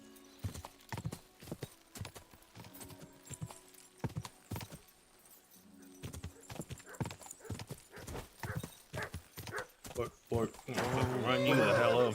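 Hooves clatter in quick irregular bursts as horses gallop past in the video game Kingdom Come: Deliverance II, with a horse whinny and rushing noise near the end.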